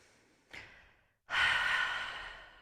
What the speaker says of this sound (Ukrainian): Подовжений видих. Теж відпускайте живіт.